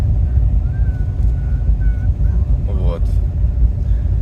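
A car travels over dirt roads through wild country on a trip toward Lake Superior, giving a steady low road rumble throughout while a person talks over it.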